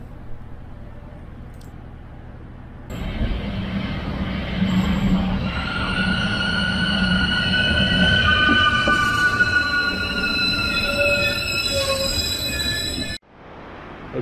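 A Trenitalia train in Italy rumbles close by, then its wheels squeal in long, high metallic screeches over a steady low roar before the sound cuts off abruptly.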